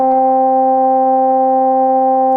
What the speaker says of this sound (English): it sounds exactly like a middle C on the GarageBand piano